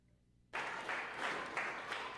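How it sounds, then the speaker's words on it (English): Rapturous applause greeting Paralympic torchbearers at the Channel Tunnel exit in Calais bursts in suddenly after a quiet moment, a dense, sustained crowd clapping with a few swells of cheering. "Paralympic torchbearers who were greeted to rapturous applause in Calais"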